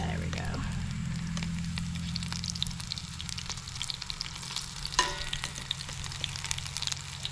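Fries bubbling in hot oil in a portable outdoor fryer, a steady fizzing hiss with a faint low hum underneath and occasional crackles and a clink midway.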